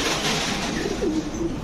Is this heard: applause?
no